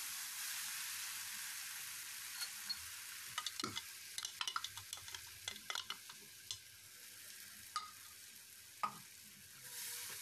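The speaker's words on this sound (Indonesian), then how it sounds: "Kita osreng atau tumis lagi sampai airnya habis dan berminyak supaya lebih sedap masakannya" Ground spice paste sautéed with golden fried shallots in a pan, a quiet steady sizzle broken by scattered stirring scrapes and clinks of a utensil, with no talking.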